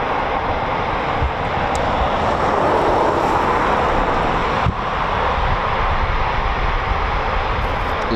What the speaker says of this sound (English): Yeah, we've got more aircraft about to take off.